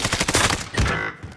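Dense automatic gunfire in Call of Duty: Modern Warfare, Rebirth Island mode, a rapid burst of close shots rattling nonstop for over a second and then trailing off.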